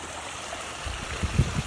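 Fast-flowing, deepening floodwater pours through a farm cattle grid and drains toward a stream, giving a continuous close rush with gurgling surges that grow slightly stronger toward the end.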